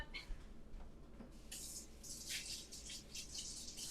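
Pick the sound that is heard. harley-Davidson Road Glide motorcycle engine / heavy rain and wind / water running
water running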